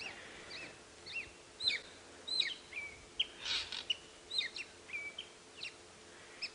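A bird gives bursts of quick chirrups and short whistled notes imitating a scrub robin, scattered irregularly over quiet background hiss on a morning safari drive.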